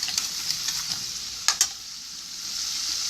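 Garlic sizzles in a hot pan as it is stirred, a steady close hiss broken by a few sharp scrapes of the spoon near the middle, with no talk.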